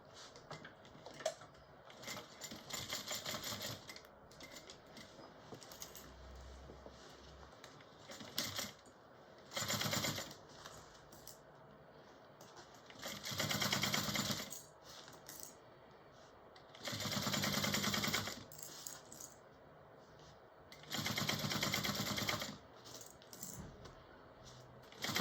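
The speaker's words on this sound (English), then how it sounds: "we're going to go ahead and sew that on" Sewing machine stitching a strap onto a mini bowler bag at a quarter-inch seam, in several separate runs of steady rattling stitches with quiet pauses and small handling clicks between them.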